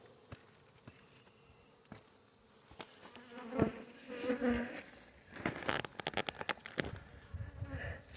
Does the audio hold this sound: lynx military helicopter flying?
no